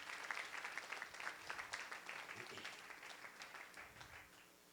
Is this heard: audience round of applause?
yes